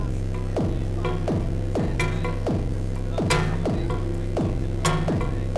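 A solenoid in a Eurorack cassette tape setup taps steadily about twice a second over a constant loud low hum, each tap a sharp click with a descending tonal ring.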